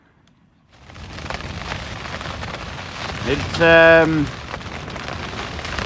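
Heavy rain from a storm pounds on a tent while camping in the tail of a hurricane on the Isle of Mull, a dense, steady hiss rising after a quiet start, with a short voice.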